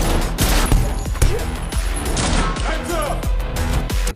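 Assassin shooting practice in a film has repeated sharp gunshots in an irregular rhythm, loud and close, over a busy background with crashes.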